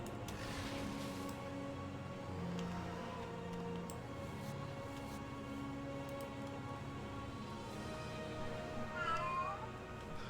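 A cat meows during a World of Warcraft session in Stranglethorn, heard over steady game music and ambience, with a pitched meow rising toward the end.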